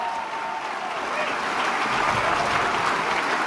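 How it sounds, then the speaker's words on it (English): A political rally crowd applauds for Conservative figures Rona Ambrose and Candice Bergen, a dense, steady wash of clapping that holds loud and continuous throughout, swelling slightly toward the end. "Give them a round of applause."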